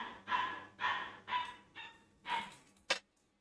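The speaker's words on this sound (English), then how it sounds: "I don't know if you guys can hear the dog barking in the background" A newly adopted dog barks in the background during a Flight Simulator 2020 session, five fairly loud, evenly spaced barks followed by one short sharp yip, with no talking over them.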